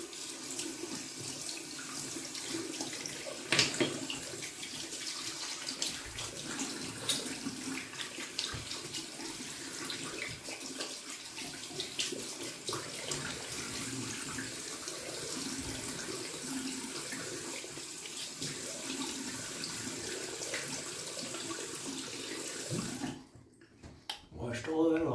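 Water runs from a tap as soap is rinsed off, a steady close splashing stream lasting most of the stretch before cutting off near the end, with no talking.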